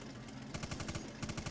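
A tank's machine gun fires in Tank Mechanic Simulator, aboard a Panther tank. Two rapid, rattling bursts ring out close and loud, with a brief break between them.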